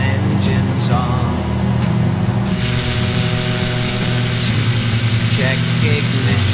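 Steady engine drone in a Microsoft Flight Simulator aircraft near Niagara Falls, a loud continuous mid-low hum with faint music or voice layered over it throughout.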